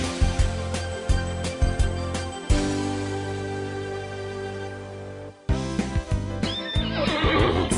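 A horse neighs and whinnies loudly over rhythmic clip-clopping hooves, with music-like tones and sharp hits mixed in, ending in a noisy, bright burst.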